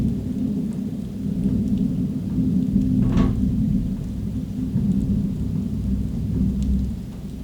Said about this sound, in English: That thunderstorm lasted for about an hour, and it was like big booms.